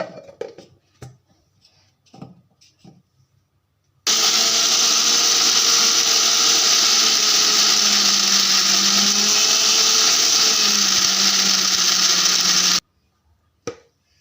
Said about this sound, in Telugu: ఇప్పుడు మిక్సీ పట్టేసుకుందాం